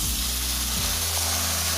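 Ash gourd sizzles and fries in a hot pan with ginger paste, cumin and turmeric, giving a steady, close crackle throughout with no talking.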